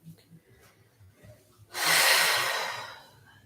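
During a calming yoga relaxation, a person takes a slow breath: quiet, soft breathing at first, then one long, airy exhale that swells up close and fades away over about a second and a half.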